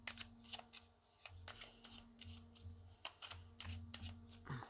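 Tarot cards are shuffled by hand at close range, quiet repeated riffling flutters and soft slaps in uneven bursts against a faint steady background hum.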